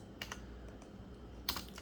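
Keys tapped on a misconfigured computer keyboard, a few quiet scattered clicks with a sharper cluster near the end, faint against a soft background hum and no speech.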